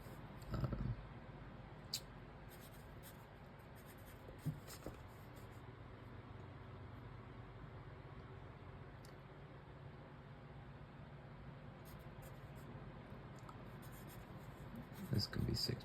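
A pen or pencil scratches across paper while algebra problems are worked out by hand. The soft, continuous writing noise is close and faint, with a few brief clicks and taps along the way, and no voice is heard.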